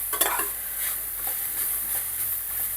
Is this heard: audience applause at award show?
no